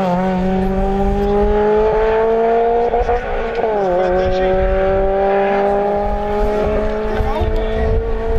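A Toyota Corolla Coupé GT rally car drives hard on a rally stage, its engine note loud and sustained with clear revving and gear changes, close by throughout.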